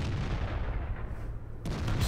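A FV3805 tank gun fires a shell in World of Tanks: a dense, rumbling roar that holds steady and then shifts sharply near the end, with no voices.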